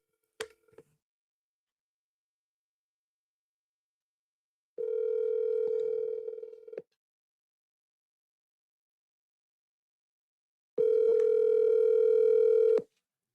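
Telephone ringback as an outgoing call is placed: a brief click, then two long steady tones separated by silence, clear and close.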